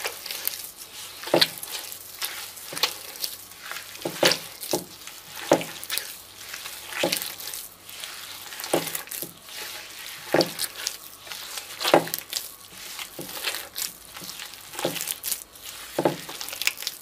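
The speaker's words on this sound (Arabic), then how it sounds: "نحاول نخدمو السنيده والزبده مزيان حتى تذوب لينا السنيده." Semolina and butter are stirred and cooked in a pan, sizzling softly as a utensil scrapes and stirs in a repeated rhythm of short strokes, close up and without speech.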